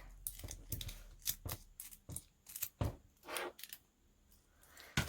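Scissors cut an old book page in a quick series of soft, close snips, with short pauses between groups of cuts.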